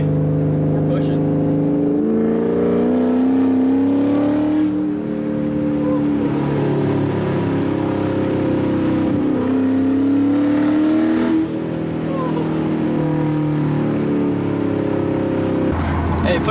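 A C7 Corvette with headers, an X-pipe exhaust and a tune rumbles steadily close by, its engine note rising and falling through several revs while voices talk over it.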